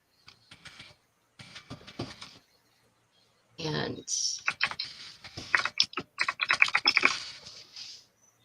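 Someone types on a computer keyboard in bursts of soft clicks. A pause comes first, then a faster, busier stretch with scattered sharper taps. The sound is faint and close, with no clear speech.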